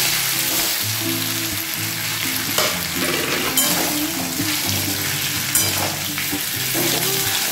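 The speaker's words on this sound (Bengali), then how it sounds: "আলুগুলোকে এবার ভেজে নেব।" Potato pieces with a split green chilli frying in hot oil, a loud, constant sizzle with occasional stirring knocks, no speech, and low tonal humming beneath.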